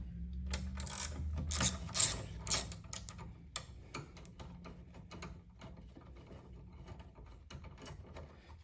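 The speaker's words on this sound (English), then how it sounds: "I'm using a ratchet" A ratchet fitted with a deep socket turns out a 10 mm bolt during a battery replacement on a Chevrolet Equinox or GMC Terrain, giving a close, fast run of clicking ticks, louder at first and then lighter and steadier.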